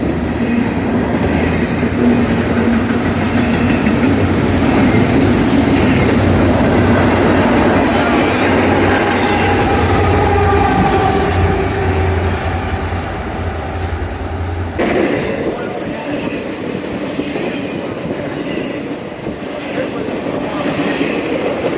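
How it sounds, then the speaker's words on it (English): A freight train with an EMD SD70 pusher locomotive at the rear rolls past close by. A loud, continuous rumble and clatter of wagons shifts partway through as the pusher passes. "there's a pusher behind it. An EMD SD70."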